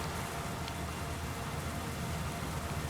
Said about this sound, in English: Get yourself out of the rain.